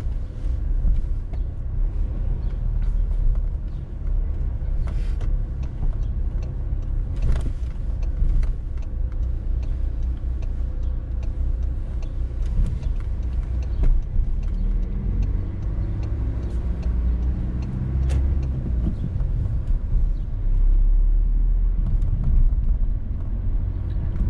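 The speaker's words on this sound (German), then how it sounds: "Wir fahren vor und fahren vorne auf der rechten Seite links weiter jetzt." A car drives steadily through town streets during a driving test, its engine and road noise forming a continuous loud rumble with a few ticks and small bumps throughout.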